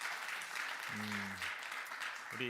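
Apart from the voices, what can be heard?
audience applause in church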